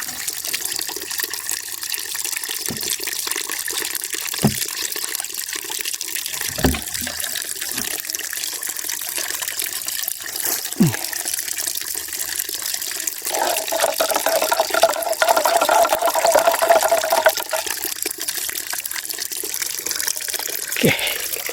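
Water splashes and trickles steadily as a young fruit tree is watered with liquid organic fertilizer mixed in water, poured outdoors in hot weather with a few louder knocks along the way.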